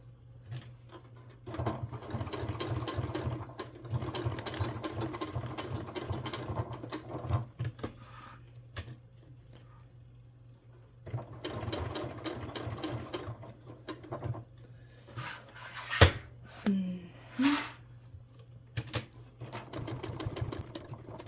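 A sewing machine stitches a fanny pack in bursts of steady rapid whirring, pausing between runs, with a few sharp clicks and clatters near the end and no talking.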